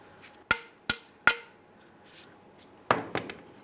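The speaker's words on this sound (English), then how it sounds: "typically you can go ahead and tap it off of here with a hammer if necessary" Hammer taps on the outer tie rod end of a 1994-2001 Dodge Ram 1500: three crisp metallic strikes about half a second apart, then a pause and two closer blows, each ringing briefly, close and alone.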